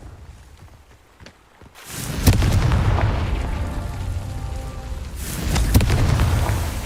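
A Confringo spell goes off in Hogwarts Legacy with a booming fiery blast after a quiet moment, followed by rumbling crackle and a second burst of explosion later, loud and close.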